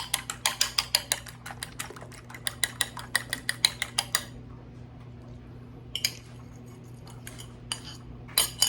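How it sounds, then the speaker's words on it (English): Two eggs being beaten for boudin cornbread: a close, quick run of rhythmic clinking taps for about four seconds, a short pause, then a few more scattered bursts, with no talking. "We need to beat them up a little bit."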